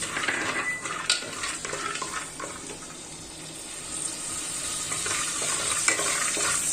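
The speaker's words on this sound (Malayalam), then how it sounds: "ഇനി നമുക്ക് അതിലേക്ക് അണ്ടിപ്പരിപ്പ് മുന്തിരി ഇട്ടിട്ട് വറുത്തെടുക്കാം." Cashew nuts and raisins fry in ghee in an uruli for jackfruit payasam, giving a continuous close sizzle with scraping stirring strokes throughout and no voices.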